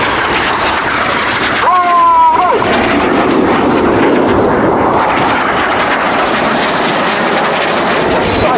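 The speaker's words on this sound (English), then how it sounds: "The 4 jets now descend to just 100 feet above the runway." Four Red Arrows jets descend to about 100 feet over the runway at an air display, a loud, sustained roaring jet rush that fills the whole stretch with a brief rising whine partway through.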